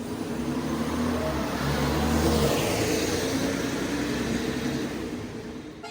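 A Cummins diesel engine in a Citybus LM double-decker runs with a deep, steady drone that swells slightly and then eases off, loud and continuous with no talking.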